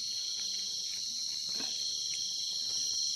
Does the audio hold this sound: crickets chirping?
yes